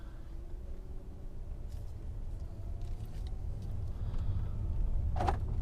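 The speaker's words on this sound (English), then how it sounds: "we're in the car. Let's go for a ride." Inside a 2004 Mercedes E500 V8 wagon as a drive begins, a low engine rumble fills the cabin and builds gradually, with a brief mechanical whir or click near the end.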